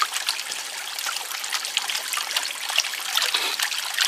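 Gold pan swirling water and sand while prospecting in North Carolina, a steady close trickling and sloshing wash with small splashes running throughout.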